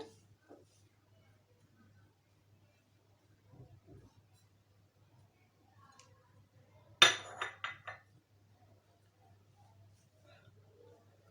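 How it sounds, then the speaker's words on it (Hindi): A spoon mixes powdered sugar and salt in a bowl, making quiet, sparse clinks and scrapes with a short, brighter burst of clattering partway through and near-silence between. "पिसी हुई शुगर ऐड करेंगे, नमक ऐड करेंगे। इसको अच्छे से मिक्स कर लेंगे।"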